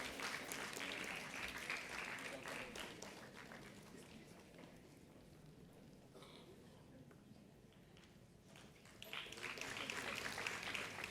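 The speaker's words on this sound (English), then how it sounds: "Let the applause continue." Continued applause from the audience at a school awards ceremony, a broad crowd clapping that thins to a quieter patter midway, then swells again loudly toward the end.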